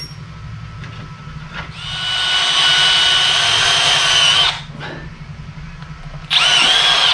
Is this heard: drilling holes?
yes